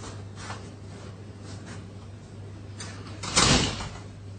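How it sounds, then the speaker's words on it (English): A door is shut in a hearing room, a broad thud-like burst near the end after a quiet stretch with a steady low hum and faint shuffling. "Let me just shut the door"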